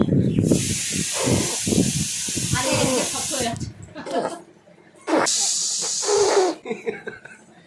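Two long, loud bursts of steamy hissing like a pressure cooker, imitated by a voice, with talk and a chuckle in between.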